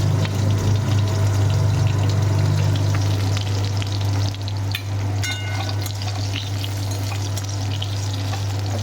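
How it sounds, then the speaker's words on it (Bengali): Bitter gourd and eggplant fry in white cooking oil in a pan, giving a steady close sizzle and crackle throughout with a constant low hum underneath and no talking. "সাদা তেল দিয়েছি আমি উচ্ছেটা আর বেগুনটা না আগে ভেজে নিই"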